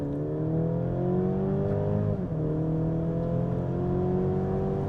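A Mercedes GLC 300 accelerating at full throttle, its engine droning loud and steady from inside the cabin with a rising whine, a brief dip as it shifts gear midway, then climbing again; no talk.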